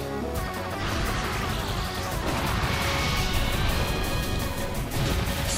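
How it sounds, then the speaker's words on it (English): A Self-Destruct explosion from the Pokémon Battle Revolution video game, a loud, sustained crashing blast that rumbles on for several seconds without speech. "Self-destruct detonates!"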